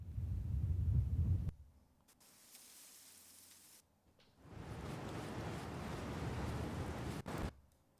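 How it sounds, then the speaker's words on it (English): A heavy wind effect, layered for whoosh design, comes as dense rushing noise: a loud gust, a quieter stretch, then a long sustained roaring blast that cuts off sharply. "heavy wind sound"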